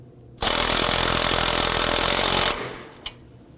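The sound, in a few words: tightening axle nut with 19 millimeter socket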